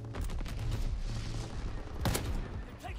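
A PTRS 41 anti-tank rifle fires in a video game battle, giving sharp cracks among dense rumbling gunfire. One especially loud shot stands out partway through.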